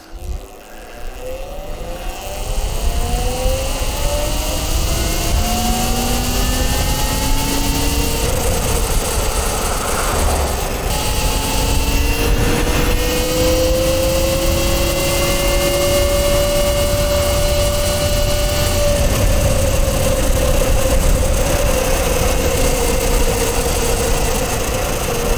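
A 72V King Goat electric moped accelerating hard in sport mode, its motor whine climbing steadily in pitch over rushing wind and road noise, loud and close throughout.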